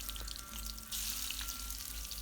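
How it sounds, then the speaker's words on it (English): Battered duck frying in a thin layer of oil in a frying pan, a steady close sizzle with a brief louder surge of crackling partway through. "Have a thin layer of oil in a frying pan and then add the battered duck in small"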